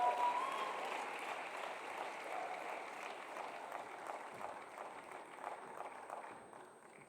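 Conference audience in Kigali applauds to welcome a speaker to the stage, sustained rapid clapping that starts strongest and gradually thins and fades toward the end.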